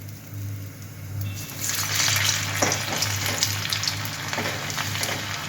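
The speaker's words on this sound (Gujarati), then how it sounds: "હવે આપણે એને સેકન્ડ ફ્રાય માટે ડાયરેક્ટ નાખીશું." Pressed raw banana fritters dropped into hot oil for a second fry, a loud bubbling sizzle that swells after about a second and holds steady nearby, with a low hum underneath and no talk.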